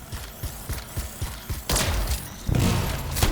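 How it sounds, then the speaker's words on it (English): Canisters explode in the video game Anthem: a run of sharp thuds and pops gives way to two loud, broad blasts with rumbling debris, no voices. "It'll be a contained explosion."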